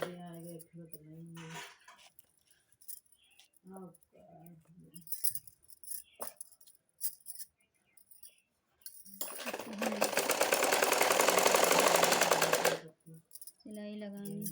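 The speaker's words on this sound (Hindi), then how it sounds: "फिर हमें इस तरफ भी इसी तरह सिलाई लगा लेनी है।" A sewing machine stitches fabric for a matka-style neckline in a quick, continuous mechanical burst lasting a few seconds, with someone talking before and after the run and scattered small clicks of handling.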